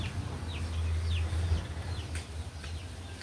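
A hen clucks in a few short, soft calls near a mango tree where she wants to lay an egg, over a faint low background hum, with no speech.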